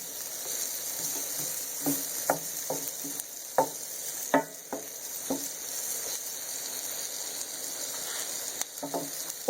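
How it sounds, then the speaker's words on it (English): Onions frying in oil in a pan, with a continuous soft sizzle and frequent light taps and scrapes of stirring throughout, close and moderately quiet with no talking. "we got our onions cooking"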